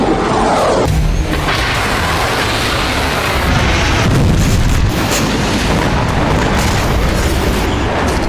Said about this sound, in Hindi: कत्यूशा रॉकेट लॉन्चर जिसका इस्तेमाल हिजबुल्लाह ने इजराइल को दहलाने के लिए किया